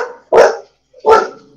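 A dog gives two loud, close barks about three-quarters of a second apart, each short and full-throated, with silence between them.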